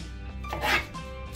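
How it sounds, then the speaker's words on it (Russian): A knife cuts through pak choi on a cutting board in one short, close, crunchy slice with a faint tap at the end. "И произвольно нарезаем."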